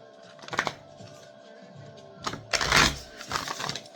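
Playing cards riffle-shuffled in a tarot reading, a short ruffle near the start followed by a louder, longer burst of shuffling and flicking cards near the end, close and fairly clear with no talk.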